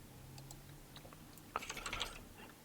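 Quick clicks of typing on a computer keyboard, a short burst of keystrokes near the end, close and fairly clear over a quiet background.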